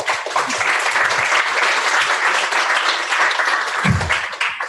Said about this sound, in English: a little applause is fine